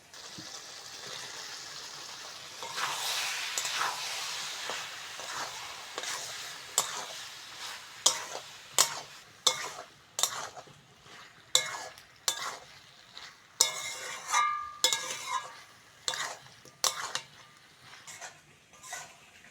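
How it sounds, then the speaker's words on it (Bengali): Boiled soybeans are stir-fried with spices in a pan: a soft sizzle builds, then rhythmic loud scraping strokes repeat about once a second over the frying hiss, with no voices. "মশলার সঙ্গে সয়াবিনটা ভালো করে কষে নিয়েছি"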